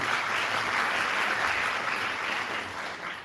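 An audience at a Yunus Emre poetry evening applauds steadily, a dense wash of many hands clapping at once, filling the room without pause.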